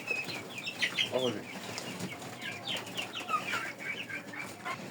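Farm chickens feeding, clucking and chattering in scattered soft calls with some wing flaps and pecking, moderately near and fairly quiet.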